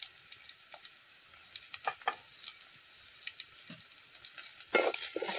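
Chopped onions with salt frying in a pan for an oyster curry, a steady soft sizzle broken by scraping stirs and clinks, with a sharper burst of spatula noise near the end.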